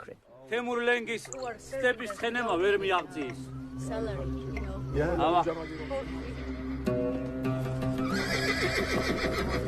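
Horses whinny loudly and repeatedly in a historical documentary scene of Georgian riders waging guerrilla war, with long rising and falling neighs over a low rumble and hoof clatter near the end.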